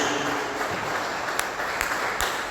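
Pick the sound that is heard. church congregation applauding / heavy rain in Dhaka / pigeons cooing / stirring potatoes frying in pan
church congregation applauding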